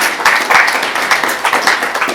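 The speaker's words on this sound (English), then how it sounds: "just big round of applause for the team" Audience applause for the organizing team at a Write the Docs Australia conference introduction, a dense, steady wash of many hands clapping in a hall for a couple of seconds.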